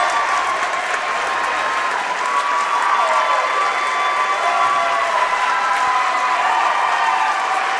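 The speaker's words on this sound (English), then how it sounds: "And Archie Guai and Cruz Jackson get a nice round of applause as they depart." A large crowd at a boys' Class S championship basketball game applauds continuously, a dense, steady wash of clapping that sounds loud and fills the space, with faint cheering mixed in.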